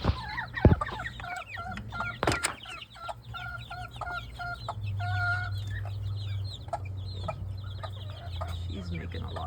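A pullet hen clucks repeatedly in a coop with chicks nearby, a series of close, rhythmic clucks over a low background hum, with a few sharper knocks early on.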